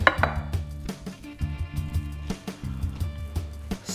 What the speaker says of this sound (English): you want 4 spring onions, chopped, sliced